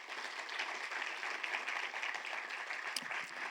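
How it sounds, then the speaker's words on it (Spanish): A church congregation applauds steadily, with a dense wash of clapping at an even level throughout. "Vamos a darle un aplauso a la palabra de Dios"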